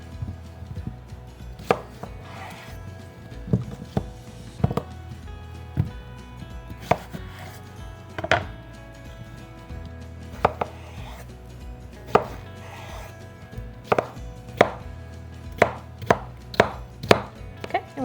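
A knife chops cucumber into small chunks on a cutting board, with sharp, irregular knocks, some single and some in quick bursts, close and clear over quiet kitchen background.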